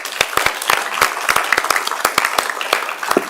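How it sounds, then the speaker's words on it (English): Applause at a city council meeting for an Employee of the Month honoree, a small group clapping in quick uneven bursts, close and fairly loud, with no talk over it. "let's give him a big round of applause"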